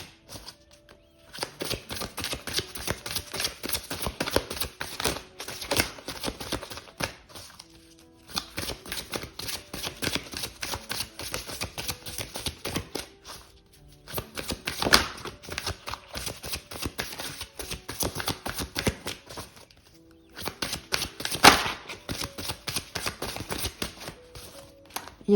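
Tarot cards shuffled by hand in repeated bursts of crisp riffling and flicking, four long runs separated by brief pauses, close and fairly loud with no talking.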